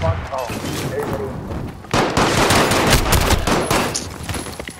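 Loud, dense video game gunfire rattles in continuous rapid bursts, close and heavy, building after a brief lighter opening while a voice speaks over the shooting.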